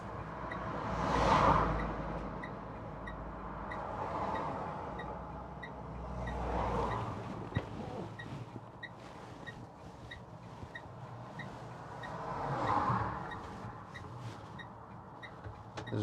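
A 2022 Citroen Ami electric car pulls away along a UK road, a low, soft rolling drone with road noise that swells and fades a few times, alongside faint repeating electronic chimes and ticks.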